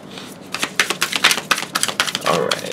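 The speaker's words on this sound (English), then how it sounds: "So we'll give him a good shuffle." Tarot cards shuffled by hand during a reading, giving a rapid run of crisp riffling flicks and taps, close and fairly loud, with a softer sliding rustle near the end.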